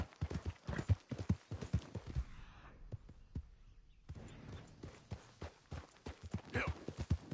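A horse is ridden in Red Dead Redemption II, with close, distinct hoof clops in uneven bursts. The hooves pause briefly near the middle and then pick up again, faint and intimate.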